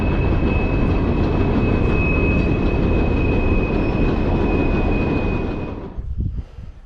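A noisy old train passes beside a creek as a loud, close, continuous rumble with a steady high squeal, then fades quickly near the end into quieter outdoor sounds.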